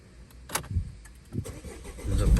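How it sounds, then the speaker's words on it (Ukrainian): Renault Scenic being started with a key card: faint clicks and rattles inside the car, then the starter cranks and the engine catches into a loud, low, rising rumble at the end, with no one speaking. "запускаємо авто"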